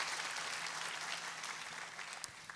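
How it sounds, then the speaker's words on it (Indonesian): Steady applause from a large church congregation, a dense wash of clapping that holds evenly throughout without voices rising above it. "Boleh tepuk tangannya yang paling meriah buat Yesus Tuhan kita."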